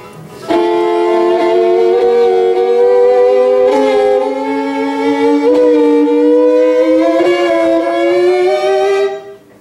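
A sustained, reedy tone slides slowly upward in pitch for about nine seconds, an imitation of gears grinding as a vehicle shifts.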